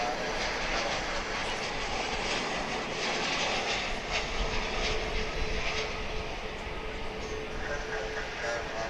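Aircraft engine noise from an airplane coming in to land at DFW International Airport, a continuous broad roar holding steady throughout with slight swells, fairly close and loud, with outdoor ambience.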